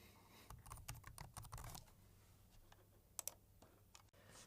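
Typing on a computer keyboard to enter a name, a quick run of close key clicks in the first two seconds, then a few scattered taps and two sharper clicks near the end.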